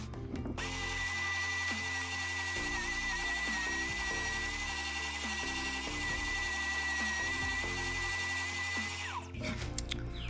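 A spindle sander fitted with a 1-inch spindle shaping the interior contour of a wooden push stick: a loud, steady motor whine with grinding pressure changes as the wood is worked, starting and stopping abruptly.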